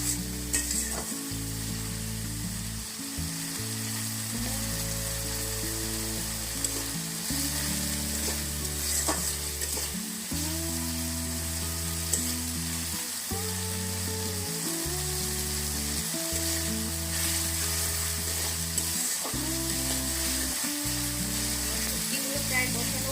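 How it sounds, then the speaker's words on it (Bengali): Dried fish curry with taro stolons and jackfruit seeds being fried down in oil, a continuous loud sizzle with repeated scraping and clattering stirring strokes throughout, close and without talk. "তেলটা উপরে উঠে গেলে মনে করবেন যে এটা কষানো হয়ে গেছে।"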